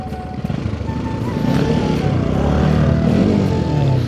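A motorcycle engine runs nearby, its revs rising and then holding at a steady, droning pitch while the bike is ridden.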